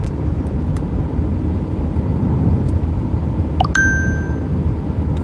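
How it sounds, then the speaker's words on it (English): A phone chimes with a single sharp text-message ding inside a moving car, ringing out clearly over the steady low road rumble. "I'm getting text messages."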